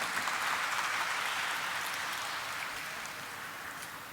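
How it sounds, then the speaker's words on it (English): A corporate event audience for Sriram Properties gives a steady round of applause during a memento presentation, a dense wash of clapping that holds evenly and tapers slightly toward the end. "Let's have a huge round of applause,"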